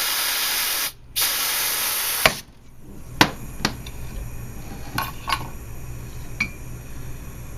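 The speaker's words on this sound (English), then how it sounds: "take some compressed air, shoot it right where the hose is, and push the piston out" A loud hiss of compressed air is shot into a brake caliper at the hose port to force the piston out, cutting off abruptly after about two seconds, followed by a few sharp metallic clicks and taps.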